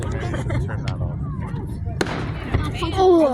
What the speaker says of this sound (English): Elijah, I think everybody should watch the fireworks